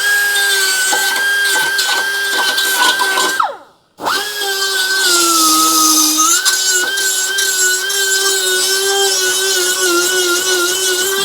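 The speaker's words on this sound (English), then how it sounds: "The die grinder is my friend." Die grinder with a tungsten bit grinding rust off a car frame, loud steady high-pitched whine with a brief stop and spin-up, then continuing grinding at shifting pitch; no talk.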